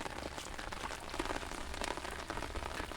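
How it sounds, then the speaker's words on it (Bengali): Heavy rain pours steadily onto a river during a rainy-season shrimp-catching outing, a dense, continuous close hiss of drops on water and surfaces with no voices. "ওরে বৃষ্টি না ধরা যায়, না ধরা যায় ছাতা।"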